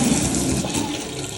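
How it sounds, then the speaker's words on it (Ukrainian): Water pump pushing water out through a pipe to the street after a forced well filter startup, a steady, loud broadband rush of flowing water that holds without a break. "Насос качає."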